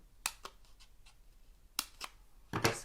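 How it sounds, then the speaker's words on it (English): Scissors snipping the edge off paper for a Halloween treat craft: a few sharp, close clicks spaced apart, ending in a louder burst of cutting. "I just cut some"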